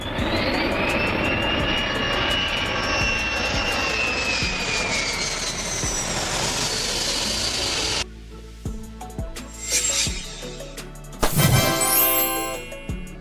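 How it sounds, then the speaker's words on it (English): A firefighting drone, an unmanned aerial vehicle that scouts fires from above, flies with a loud, steady jet-like engine roar that rises in pitch, then cuts off abruptly and gives way to quieter, scattered sounds. "Firefighting drone."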